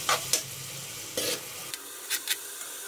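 A few short scraping stirs of turmeric, ginger and spices with a splash of water in a cooking pan for a rohu fish and eggplant curry, brief and close over a quiet background.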